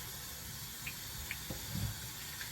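Warm tap water runs steadily into a sink with a soft, even hiss as knitting is rinsed in a colander, with a few faint drips and clinks from handling.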